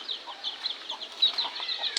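Chickens cluck and rustle their wings in a busy, continuous patter of soft calls and flapping, moderately close with no talking.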